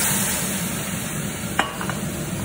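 Chilli crabs sizzle steadily in a hot pan as wine goes in, with a brief sharp clink and a short burst of louder spitting over the constant frying hiss.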